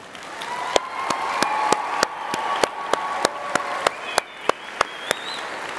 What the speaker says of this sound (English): So let us have a big round of applause for them.